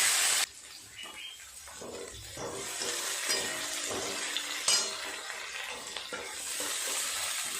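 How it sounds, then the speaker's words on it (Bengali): Chopped onions drop into hot spiced oil tempered with bay leaves, dried red chilli and cumin seeds, giving a loud opening splash, then a steady close sizzle with occasional stirring clinks. "পেঁয়াজটা ভালো করে ভেজে নেব লাল করে।"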